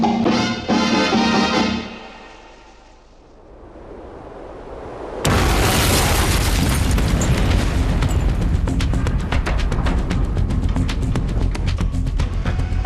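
A huge cannon, 26 inches in diameter and firing a 600-pound ball, lets out a loud, deep boom after a brief lull, followed by a long, sustained roar and crackling rumble.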